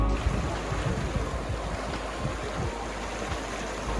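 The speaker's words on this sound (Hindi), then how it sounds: "बहते पानी की आवाज़ सुन के मज़ा आ गया।" The Narmada river rushes and churns steadily with a low, gusty roar, a fast-flowing river heard up close, with no voices.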